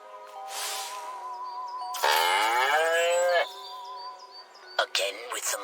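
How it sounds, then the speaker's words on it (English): Cattle in Destroy All Humans! let out long, harmonic moos, one after another, heard up close against a quiet game backdrop, with a higher, strained moo in the middle and short clicks near the end. "Again with the moo"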